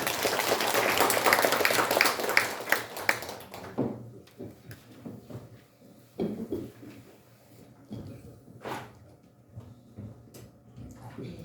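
An audience at a Korean commemorative ceremony for independence movement honorees breaks into dense, loud clapping that fades out after about three and a half seconds. A few scattered claps and soft room noises follow.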